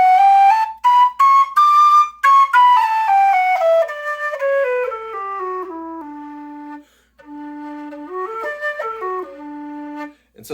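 A Tony Dixon TB003 lightweight polycarbonate conical-bore tin whistle plays a clear, close melody: bright tongued notes that step upward, then descend to a held low tone, followed by short ornamented phrases.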